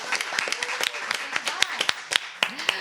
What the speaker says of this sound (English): Everybody, let's give it a round of applause.